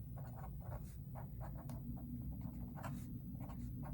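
Pen or pencil writing on paper: soft, scratchy strokes in short irregular bursts, faint above a steady low hum, with no one talking.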